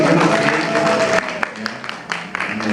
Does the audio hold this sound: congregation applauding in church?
yes